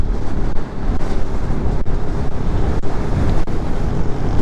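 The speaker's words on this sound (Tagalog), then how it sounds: "Lakas ng hangin." Strong wind roars and buffets the microphone continuously on a winding mountain road in Malico, San Nicolas, Pangasinan, during a Signal No. 5 storm, a dense, rushing noise with occasional gust thumps and no voices.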